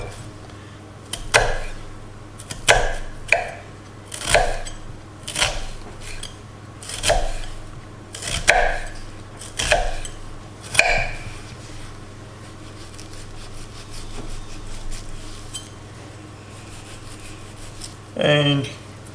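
A big kitchen knife chops an onion finely on a board, giving about nine separate sharp knocks at an uneven pace. The chopping is close and fairly loud, with a quieter stretch before one last knock.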